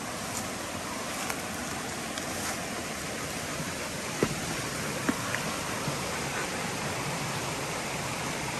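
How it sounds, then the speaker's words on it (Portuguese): Small waterfall with only a little water flowing during a dry spell on a rural property, heard as a steady, soft broadband rush of falling water with a few faint clicks, no voices. "olha aqui a cachoeira."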